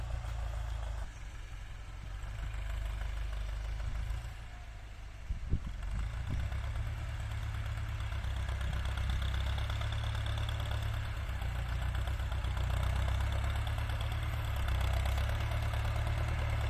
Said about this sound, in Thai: รถสามสูบของจอนเดียนี่ก็คันใหญ่นะพี่น้อง จนไปถึงเจ็ดสิบห้าแรงครับ ไอตัวสามสูบครับ